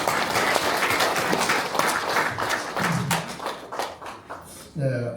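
A church congregation claps together, loud dense applause that thins toward the end as a voice resumes speaking.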